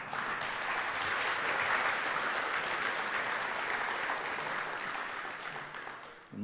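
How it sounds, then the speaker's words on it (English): Sustained applause from a conference audience after a keynote introduction, a dense steady wash of clapping that holds for several seconds before tapering off. "give a round of applause for Andrei's keynote"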